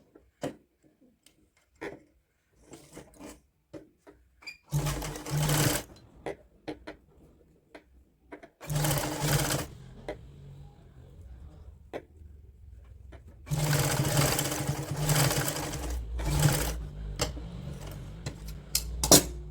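Sewing machine running a seam along the border of a woolen nightsuit for a 3–4 year old child, heard as three separate loud bursts of whirring stitching. Quiet clicks and handling noises fill the gaps between them.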